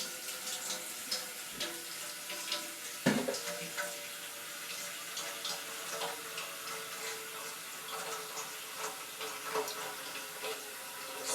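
Tap water runs steadily into large metal stock pans, a continuous splashing rush with a few clinks and a sharp knock partway through, close and fairly loud in a home kitchen while preparing corn for freezing.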